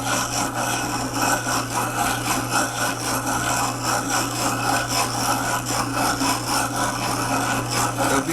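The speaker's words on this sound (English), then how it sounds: "Once you start getting a curve generated at all, then it begins to grind faster and faster." A telescope eyepiece lens is ground by hand, giving a continuous gritty rasping scrape with a quick back-and-forth rhythm. It is close, loud and steady, with a low hum underneath and no talking.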